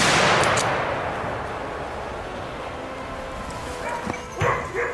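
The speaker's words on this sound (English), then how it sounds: "he swiftly fired a shot." A single rifle shot aimed at a wild boar cracks loudly at the start and then decays into a rumbling echo, followed by faint short bursts near the end.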